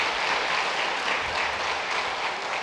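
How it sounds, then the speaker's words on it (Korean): Steady clapping from a church congregation during a Sunday service, congratulating an engaged couple standing in the pews; broad even applause with no talk over it. "다 같이 박수로 축하하겠습니다."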